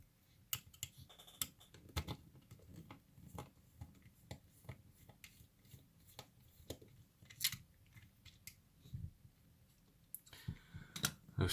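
Case screws being removed from Skyzone SKY03O FPV goggles, small clicks, ticks and faint plastic handling noises scattered unevenly, quiet and close, with a busier cluster of clicks near the end and no talk.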